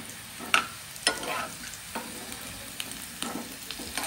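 Potatoes frying golden brown in a pan for dum aloo, a soft continuous sizzle broken by several sharp spoon scrapes and knocks against the pan, heard alone at close range.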